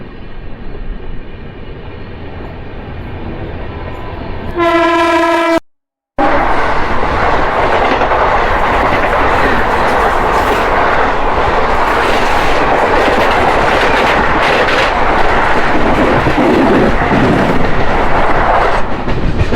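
Simhapuri Express passenger train leaving Kavali station, a loud steady rumble of wheels on rails and rattling coaches throughout, with a brief tonal horn-like blast near the start and a short dropout.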